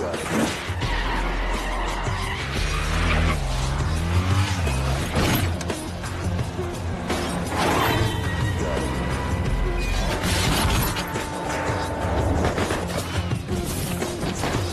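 Motorcycles in a high-speed chase scene from a Jet Li kung fu film, with engines revving, tires skidding and squealing, and crashing impacts layered together loudly and continuously, without any voices.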